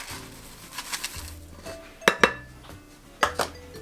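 Metal spoon scraping and clinking against a mixing bowl while oats are stirred into ginger oat cookie mixture, several sharp knocks amid softer scraping, close and fairly quiet with no talk.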